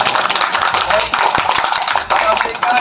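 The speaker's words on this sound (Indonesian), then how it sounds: "Tepuk tangan semuanya." A classroom group claps for a student after her presentation at a health institute, a loud, dense patter of hands filling the whole span with voices mixed in.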